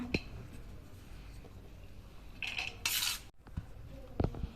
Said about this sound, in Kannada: ಮೊದಲಿಗೆ ಎಷ್ಟು ಅನ್ನ ನಾವು ಪುಳಿಯೋಗರೆ ಮಿಕ್ಸ್ ಮಾಡಬೇಕು ಅಷ್ಟನ್ನು ಹಾಕೊಳ್ಳುವ.